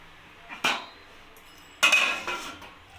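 Metal lid placed over a cooking pot of simmering capsicum and onion gravy, two sharp clanks close by, the second followed by a shorter knock as it settles.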